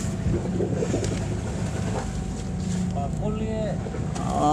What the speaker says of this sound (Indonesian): Kapal lewat, kapal cumi mas.